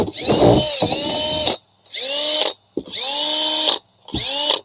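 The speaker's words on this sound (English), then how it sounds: "Okay, it's got a hammer drill, right?" A hammer drill runs in four loud bursts separated by short pauses, its motor whining and ramping as each burst starts and stops, with a rattling percussive edge throughout.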